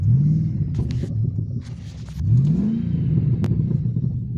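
A small Jeep engine revs loudly in two rising sweeps, close up and steady, with a few clicks and knocks between the revs and no talk.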